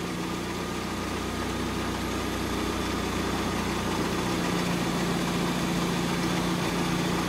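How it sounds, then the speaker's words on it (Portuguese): A Fiat Palio Fire car engine idles smoothly and evenly after repair, a steady close hum with a constant low drone and no stumbling or surging throughout. "E a marcha lenta tá ali, ó. Não treme mais"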